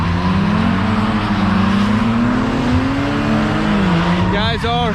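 Several cars drift at an after-work track event, engines droning steadily with a rising and falling pitch, tires squealing briefly near the end, heard from trackside at moderate distance.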